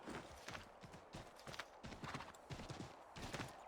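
Horse hooves clip-clop in a steady quick rhythm in Assassin's Creed 3, close and moderately loud, with brief faint talk.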